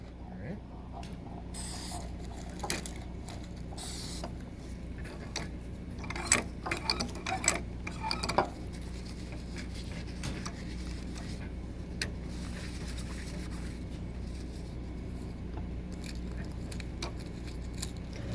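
A button maker press is worked by hand, giving a string of mechanical clacks, ratchety clicks and metal thunks clustered in the middle, fairly close over a steady background hum.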